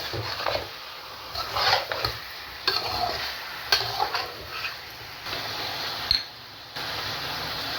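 Mutton for Peshawari namkeen gosht frying in a pan with a soft sizzle, broken by repeated scraping and clattering strokes of a spoon stirring the meat.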